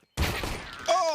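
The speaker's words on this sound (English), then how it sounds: "7 damage goosh from Harry, and then he just headshots him." Counter-Strike gunfire on the Inferno map during a competitive match, ending in a headshot: a sudden loud burst of shots that rings on, with an excited voice cutting in near the end.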